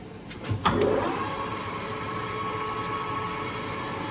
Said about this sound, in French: Le mandrin est en rotation.